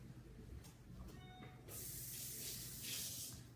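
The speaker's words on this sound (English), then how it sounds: "then I'm going to rinse my hands" Water from a tap runs steadily as hands are rinsed, a broad rushing hiss that starts partway through and stays loud, preceded by faint kitchen clatter.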